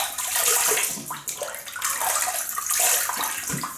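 Close, loud running and splashing water as a face is wetted at a sink before shaving, with continuous gushing broken by brief dips as hands scoop and splash, no talking.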